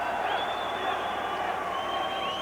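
Crowd cheering at the 1989 Don Bosco vs Catholic Memorial MIAA Division 1 high school hockey championship at Boston Garden, a steady roar from a big arena crowd that lasts throughout, with a high sustained whistle above it.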